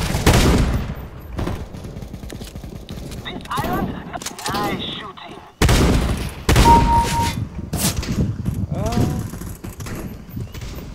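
Shotgun blasts in Counter-Strike: Global Offensive ring out as sharp, loud bursts spread through the stretch, with a player talking over and between the shots.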